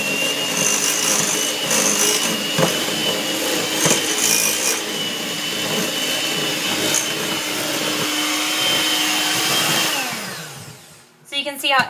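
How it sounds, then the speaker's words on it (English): An electric mixer beats cream cheese with a steady, loud motor whir that holds for about ten seconds, shifts pitch a little as it works the mix, then winds down and stops. "mixer, so you're going to use that to beat it all in"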